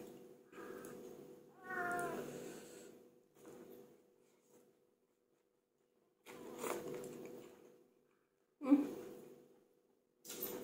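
A cat meows several times in short separate calls with quiet gaps between them, close and fairly soft, with no other sounds around.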